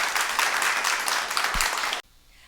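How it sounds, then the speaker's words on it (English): An audience at a children's poetry anniversary show claps in a steady burst for about two seconds, then it cuts off abruptly to near silence. "Let's give her a round of applause."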